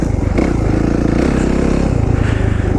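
A powerful dirt bike engine revs hard and close, a loud steady roar with rising and falling pitch and clattering mechanical texture throughout, with no talk over it.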